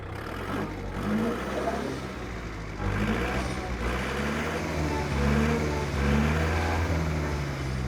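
A Kubota MU4501 4WD tractor engine runs steadily with a low, smooth droning rumble and a few surges in level, close by with no talk.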